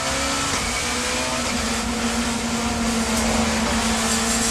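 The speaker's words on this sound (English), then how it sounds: "The Toyota and the Ford trade paint through Graham Hill Bend." Touring cars, a Toyota and a Ford among them, race through Graham Hill Bend in a sustained, close engine drone with a steady whine and no speech.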